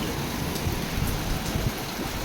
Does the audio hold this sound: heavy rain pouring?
yes